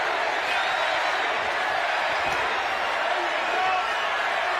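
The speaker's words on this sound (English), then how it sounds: "Crowd starts to chant Jared as they grow louder." A boxing arena crowd at a fight night in Toledo chants a fighter's name, a steady, dense roar of many voices that holds at a constant level throughout.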